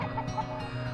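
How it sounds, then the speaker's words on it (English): Free-range chickens cluck in a grassy pasture, giving a few short clucks close by over a steady low outdoor hum, with no talking. "I have never seen so many happy chickens in my life."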